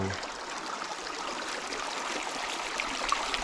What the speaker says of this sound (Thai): ที่เป็นลำธารไหลมา